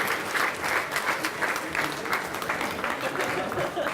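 A large audience claps at a graduation ceremony in a hall, sustained dense applause with a faint murmur of voices underneath.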